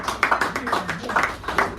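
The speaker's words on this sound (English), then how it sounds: "Give him a round of applause, please." An audience at a café poetry reading applauds as the next reader comes up, giving a steady patter of overlapping hand claps at moderate volume that continues evenly throughout, with no talking over it.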